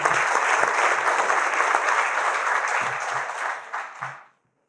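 A room full of people at a leadership handover ceremony in Thiès, Senegal claps steadily, dense and lively, before the applause tapers off and stops.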